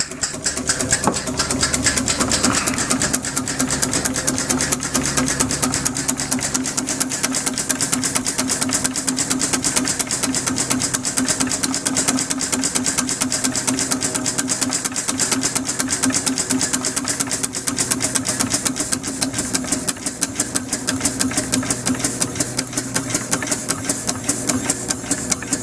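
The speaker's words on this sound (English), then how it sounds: "That's obviously the exhaust you can hear there." A steady, rapid chuffing exhaust beats on without pause, a small homemade steam engine running continuously at close range with a busy mechanical clatter.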